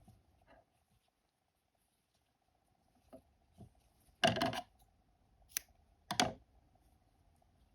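Scissors snip crochet yarn ends in a few quiet, sharp cuts, with soft handling rustles between them and a faint background hum.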